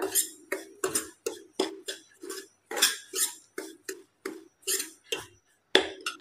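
A spoon works crushed cardamom into a rava modak mixture in a bowl, giving a steady series of about fifteen crisp scraping clicks in an even rhythm, close and clear with no talking.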